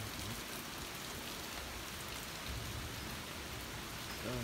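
Steady rain falls in Des Moines, Iowa, just ahead of a hailstorm: a continuous, even hiss of drops on surfaces, fairly close and unbroken, with no voices.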